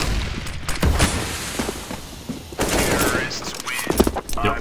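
Gunfire in CS:GO comes as dense bursts of sharp shots, loud and close, scattered across the stretch with a busy game-noise bed between volleys.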